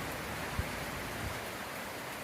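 Steady rain falls on a rainy afternoon, a dense even hiss with one soft low thump, with no voices.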